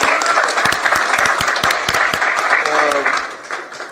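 An audience claps and cheers warmly at a live talk show after news of a cancer cure, with steady applause in the foreground and a voice briefly heard through it.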